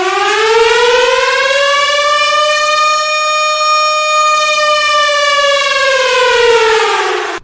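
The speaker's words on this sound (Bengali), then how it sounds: "এক নম্বর সতর্কতা সাইরেন বা অ্যালার্ট সাইরেন" A loud civil defense alert siren wails continuously, its steady tone swelling slightly and then easing back down, with no other sounds.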